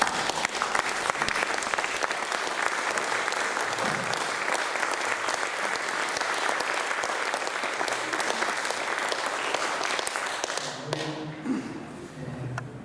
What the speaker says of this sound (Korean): 우레 같은 박수